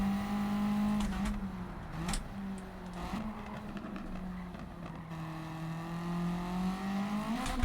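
A car's engine in the Gran Turismo racing game holds a steady droning tone that rises and falls gently as the throttle is fed in and eased off. It runs continuously throughout, with no talk over it.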